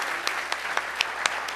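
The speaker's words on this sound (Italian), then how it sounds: "fatevi a voi un grande applauso perché ve lo meritate." An audience at an amateur football end-of-season party at the Kursaal claps steadily, a dense wash of hand claps with a few louder individual claps standing out.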